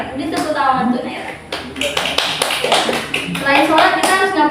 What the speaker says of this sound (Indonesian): Udah tepuk tangan untuk Naira.